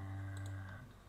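A computer mouse clicks on an execute button with a quick pair of faint, light clicks over quiet background hum.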